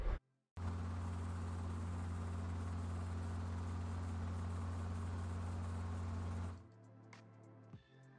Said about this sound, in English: For this tutorial we brought an engine type of sound that sounds like this.